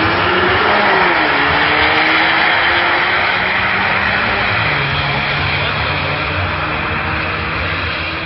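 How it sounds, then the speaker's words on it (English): A Ford Mustang EcoBoost races, its engine roaring loudly and steadily throughout, with the pitch shifting as it works through gears at close range. "His car, it sounds pretty serious."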